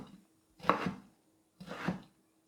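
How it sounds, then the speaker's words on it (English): Two rough knife chops cut through kimchi on a cutting board, each a short, close, muffled thud-and-crunch, separated by about a second of quiet. "Just give it a very rough chop."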